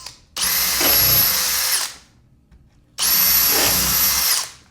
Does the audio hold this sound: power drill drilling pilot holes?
yes